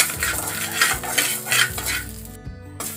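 Salt dry-roasting in a pan for Andhra-style paruppu podi, stirred steadily with a metal spoon in loud repeated scrapes and grainy rustles, then a brief pause before one more scrape.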